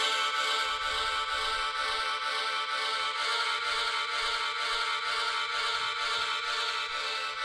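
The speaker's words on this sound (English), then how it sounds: "I just made took kind of a crappy violin sample and just made a loop that sounds like this" A bright, sustained looped violin sample plays continuously, repeating a short pattern with a slight rhythmic pulse and some low thumps underneath.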